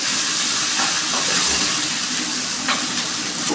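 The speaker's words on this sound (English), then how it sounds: "give it a very good mix, allow it to fry, not over fry" Fried rice with carrots and green beans fries in a hot pan, giving a constant close hiss sprinkled with small crackles and pops.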